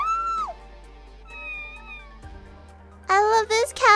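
A cat meows a few times, short clear calls with a longer wavering cry near the end, mixed with some voice-like sounds in a quiet indoor space.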